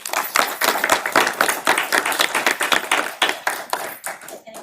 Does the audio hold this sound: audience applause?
yes